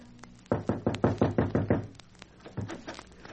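Knuckles rap on a wooden cottage door as a radio drama sound effect: a quick run of about seven firm knocks, a short pause, then a few more knocks.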